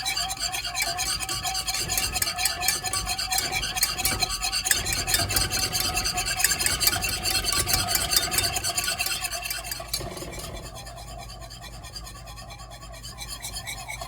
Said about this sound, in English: A nice steady stream and whisk vigorously.